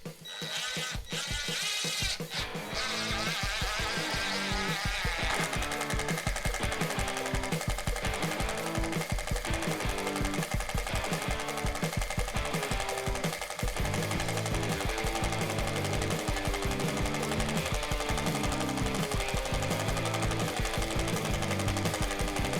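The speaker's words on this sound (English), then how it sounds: "I'm going to go ahead and run those into the stacked 2x4s now" A RIDGID Gen5X R86035 impact driver runs 3-inch deck screws into stacked 2x4s, making a loud, steady rapid hammering rattle that continues almost unbroken for the whole stretch after a brief start.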